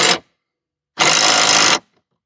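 Screw being driven in and tightened on a mower blade of a 25-year-old Craftsman LT1000 with the deck off, heard as two loud bursts of power-tool whir, a short one and then a longer one of about three quarters of a second.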